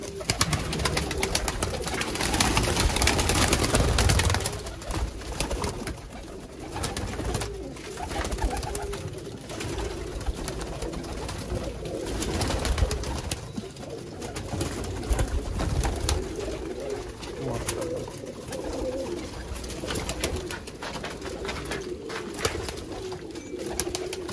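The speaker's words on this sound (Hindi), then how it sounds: "भाई शो कर रहे हैं सियालकोटी जेन्युइन चूहे कबूतरों का" Sialkoti Chuhe breed pigeons cooing in a loft, repeated soft throaty coos from several birds overlapping at close range, with a louder burst of activity early on and faint background noise.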